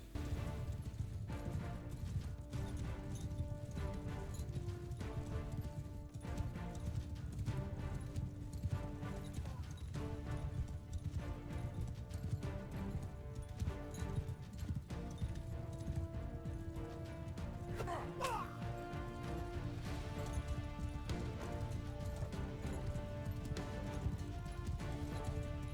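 Cavalry horses gallop in a video game battle against Azerite deserters, a dense, continuous drumming of hooves with clashing combat noise and a brief whinny, loud throughout.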